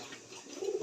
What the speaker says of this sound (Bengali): এক জোড়া কবুতর আছে, কিং কবুতর